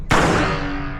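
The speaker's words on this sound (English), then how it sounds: "shooting the Ruger Mark IV" A single sharp gunshot from a Ruger Mark IV pistol at the range, loud and close, with a short ringing decay afterward.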